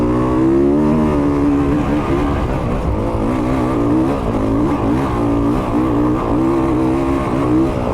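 A 2022 Honda CRF450RX dirt bike accelerates up a hill climb, its loud, close engine roaring continuously with rising and falling throttle pitch and no pauses.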